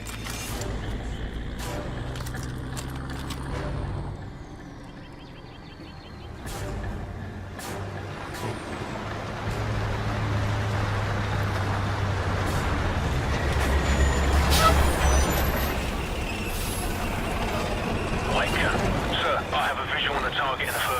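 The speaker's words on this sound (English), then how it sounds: "We're tracking an enemy convoy headed your way. I count 6 vehicles in the convoy, over." An enemy vehicle convoy of trucks and a jeep in Call of Duty rolls closer as a steady low engine rumble that dips, then swells louder and heavier, with hissing air-brake-like bursts and scattered mechanical clanks.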